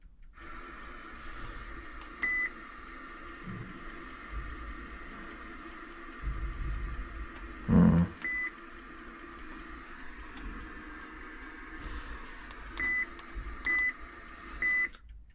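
Short electronic beeps sound intermittently, singly and in quick pairs, over a low engine-like hum with some faint thumps, inside a Hesston 6650 machine.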